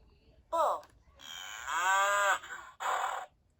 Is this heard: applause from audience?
no